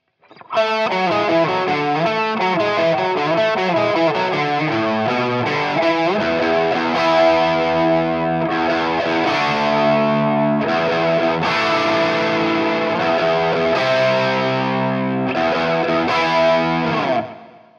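Electric guitar plays chords through an Overloud TH-U effects chain, with a swirling, sweeping flanger tone and some distortion throughout.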